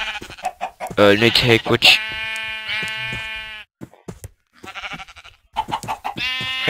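Sheep bleat in a snowy ice-age world of a video game, several wavering cries close by, mixed with a chatty voice talking over and between them.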